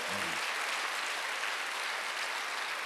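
Sustained clapping from a Korean church congregation at a Sunday service, a dense, uniform burst of applause at steady level, with a brief voice at the very start.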